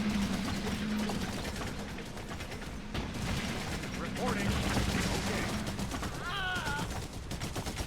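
Battlefield gunfire in the strategy game Blitzkrieg 3 cutting down a machine-gun squad, a dense crackle of rapid shots and mechanical clatter with a few whining effects, loud and continuous under faint game audio.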